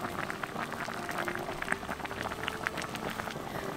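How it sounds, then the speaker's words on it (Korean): Potato soup thickened with perilla seed powder bubbles in an earthenware pot, making a continuous soft simmer broken by quick irregular pops and blips. "보글보글 한 소끔 끓여주고"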